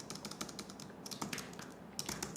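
Close fingers type in quick irregular bursts on a computer keyboard, the key clicks clustering then pausing briefly, with no voices.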